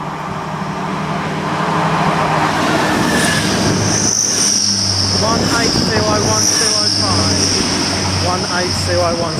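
Grand Central Class 180 train passing through Grantham station on a service to Bradford, a loud, steady rumble of wheels and engine close by with a sustained high wheel squeal and rhythmic clatter of the carriages.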